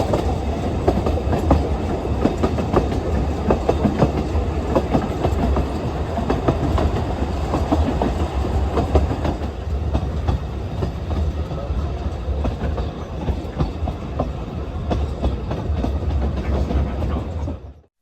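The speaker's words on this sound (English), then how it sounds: "climb aboard Tom Rolt and its train to head all the way back down the mountain to the wharf station" A narrow gauge train hauled by the locomotive Tom Rolt runs down a mountain line toward a wharf station in Wales, a steady loud rumble with rhythmic clickety-clack of wheels over rail joints throughout.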